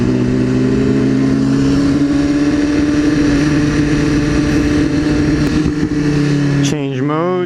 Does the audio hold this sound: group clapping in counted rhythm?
no